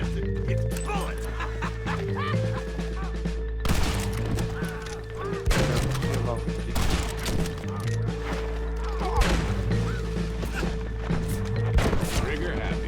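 Gunshots crack out in a Red Dead Redemption online shootout, irregular loud bursts scattered across the scene, mixed with dog barking and whimpering and someone shouting over the fire.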